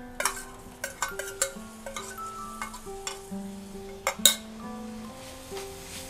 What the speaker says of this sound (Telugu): ఇదంతా బెల్లంలో కలిసేలాగా కలుపుకోవాలండి.